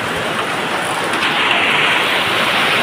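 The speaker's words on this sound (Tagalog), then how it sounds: "lalo lumalakas yung ulan" Heavy rain pouring down steadily, a dense broadband hiss that thickens and grows louder over a few seconds, with no voices.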